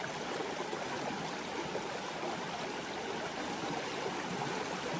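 Water swirling and splashing in a gold pan held in a Connecticut river, a steady close rush of flowing water with soft trickling, no talking.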